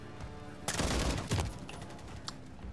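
A rapid burst of gunfire from a first-person shooter video game rattles out briefly and fairly faint, followed by a few scattered clicks and softer shots.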